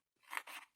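Scissors cutting paper for a craft project, two short close snips in quick succession, faint and alone.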